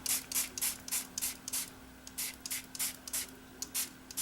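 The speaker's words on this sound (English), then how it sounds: "So I've got a fine mist sprayer here, and I'm just going to" A fine mist sprayer spritzes onto media paste in quick, repeated pumps, each a short soft hiss, a dozen or more in a steady rhythm, close and quiet with no talk.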